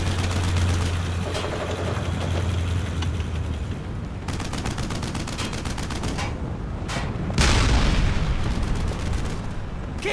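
Dense gunfire and explosions from the World War II shooter Brothers in Arms: Hell's Highway, with a steady loud roar of rapid shots, a low engine-like drone early on and a heavier blast burst near the end.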